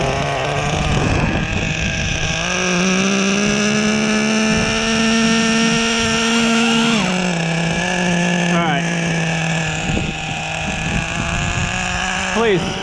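A Team Losi XXX-NT nitro RC truck with an OS 12CV engine on 30% nitro fuel runs loudly nearby, its buzzing drone rising and dipping with throttle blips, with some wind noise on the microphone.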